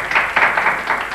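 Studio audience applause on a Turkish folk-music television talk show, a steady patter of clapping with swelling bursts, fairly loud and continuous with no talking over it.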